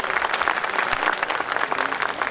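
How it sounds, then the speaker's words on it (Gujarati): An audience at a Shree Khadayata Kelavani Mandal centenary event gives Jitubhai a dense, sustained round of applause, many hands clapping at once in a steady, moderately loud roar. "એમને એક જોરદાર તાળીઓથી વધાવી લઈએ."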